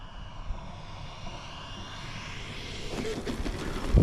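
A model T-7A jet's engine whines steadily as it comes in to land, the tone shifting and rising slightly as throttle is added near the end, heard from a distance on an open field.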